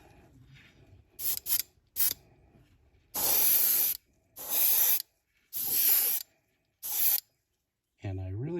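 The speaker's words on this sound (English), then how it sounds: "I really hope I didn't just overdo that as I spray more on" Spray paint hisses onto a karashi spinner in short bursts: a few quick taps, then four longer, loud, close blasts of a second or so each, separated by brief pauses, with a voice speaking at the end.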